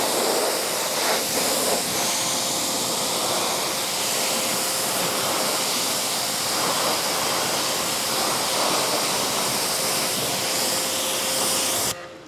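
A water rinse sprays over a ceramic-coated car as a loud, continuous hiss that holds steady for about twelve seconds, close by, with no talk.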